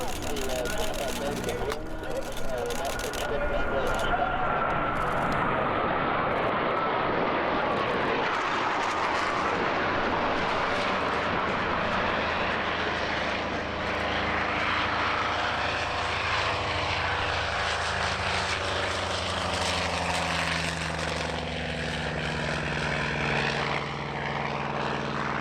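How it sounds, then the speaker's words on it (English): Blue Angels military jets pass by Oshkosh during EAA AirVenture, their loud engine roar swelling and sweeping past, then trailing off into a long fading rumble, with voices talking beneath it. "an unexpected highlight was a mini demonstration by the Blue Angels passing by Oshkosh while flying to their next show"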